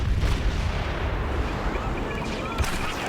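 An ion torpedo fired at an AT-AT walker in Star Wars Battlefront, a heavy booming blast followed by a rolling rumble and scattered explosions, with a fresh loud thump near the end.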